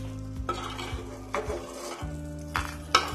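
A utensil scrapes and clinks in a pan of hot oil as fried lentil dumplings (bori) are lifted out, with a soft sizzle underneath and several sharp metallic knocks, close up.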